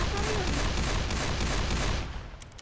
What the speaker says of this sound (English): So there's a Vector SMG that has a silencer on it, but it uses the unsilenced Uzi firing sounds